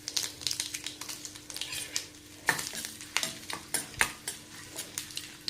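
Mustard seeds, asafoetida and dried red chillies sizzle in hot tempering oil for an eggplant dish, a steady crackle broken by sharp pops and spoon stirs, close and fairly quiet.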